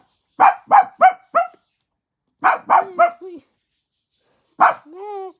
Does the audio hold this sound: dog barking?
yes